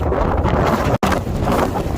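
Strong wind buffets the microphone on a 3,135-metre volcanic mountain summit near a crater, a continuous loud roaring gust with a brief dropout in the middle.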